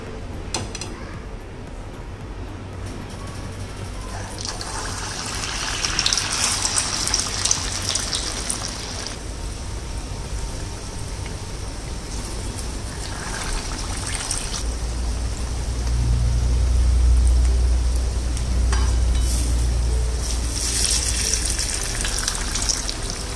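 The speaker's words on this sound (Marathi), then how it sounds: "आता हे बघा, तेलात सोडूया आपण।" Hotel-style medu vada batter rings slide into hot oil and fry with a steady, close bubbling sizzle that swells louder midway, with no talking.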